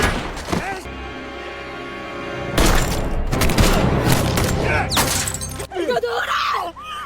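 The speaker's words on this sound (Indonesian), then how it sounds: "Namun selama baku tembak itu, Park dan Agen Jo berhasil membunuh dua bawahan konsul jenderal" Gunfire during a shootout scene in a secret-agent action film, sharp bursts and booms mixed with a loud, dense dramatic score, dropping to a quieter passage near the end.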